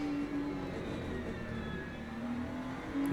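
Race cars in the sim-racing game Le Mans Ultimate, GT3 class, following a BMW into a final corner: a steady, loud engine drone holds a sustained tone that shifts slightly in pitch with gear and throttle, no talking.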